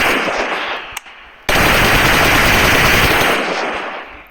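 Sustained automatic gunfire in the mobile shooter PUBG Mobile, a loud continuous burst after a brief earlier volley, with no talking over it.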